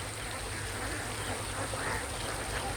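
A flock of ducks at a Kuttanad duck farm, a dense continuous chatter of quacking from many birds at once, steady and moderately loud with a watery hiss beneath and no talk.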